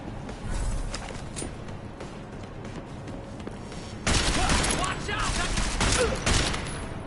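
Revolver gunfire in a video game: loud, booming shots in a close, continuous volley over dense game noise, which grows heavier in the second half.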